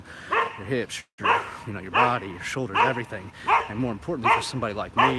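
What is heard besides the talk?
dog barking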